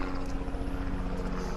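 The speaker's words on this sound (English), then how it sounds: "So there's a helicopter going over." A helicopter passes overhead as a continuous loud rumbling drone with a faint rhythmic rotor pulse, no voices.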